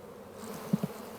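Honeybees buzz steadily around hive frames while a colony is being split, a low continuous drone with two brief louder thumps near the end.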